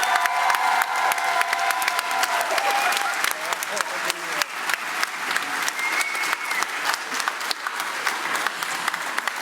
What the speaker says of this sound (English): One more huge round of applause for all of CLA 2022.